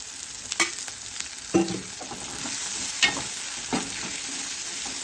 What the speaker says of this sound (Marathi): इथं थोडंसं तेल ओतून घेते